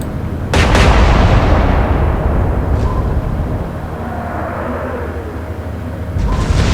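Warship guns fire a naval salvo in the Atlantic Fleet naval combat game during an alternate Battle of Jutland: a sharp, loud booming report, then a long rumbling roll that fades, and a second blast near the end.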